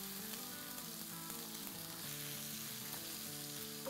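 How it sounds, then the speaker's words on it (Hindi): Whole cumin seeds and ground ginger frying in oil for a potato samosa filling, a faint but continuous crackling sizzle with light popping, no voices. "इसको हम बस 30 सेकंड के लिए ही फ्राई करेंगे।"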